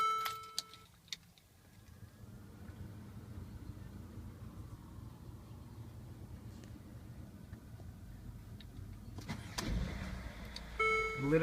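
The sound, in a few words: Mercedes ML350 4MATIC engine starting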